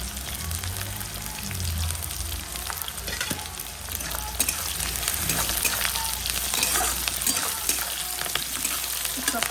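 Onions fry in a pan with a dense crackling sizzle throughout, broken by occasional stirring scrapes and clinks, heard up close at moderate loudness.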